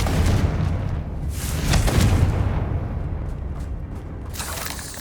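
A Confringo fire-blast spell from the Hogwarts Legacy game goes off as a loud, sustained explosive boom with a rumbling low end, swelling again mid-way before a lingering crackle.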